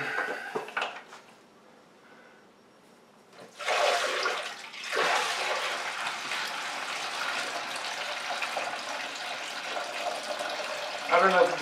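Light amber homebrewed Mexican cerveza from a Coopers kit pours into a sanitized bucket, a sustained close gushing splash that starts after a brief lull and runs steadily to the end.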